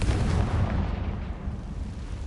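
A Confringo spell in the game Hogwarts Legacy lands as a deep, rumbling blast, a loud burst at the start that rolls on and fades over a couple of seconds, with no talking.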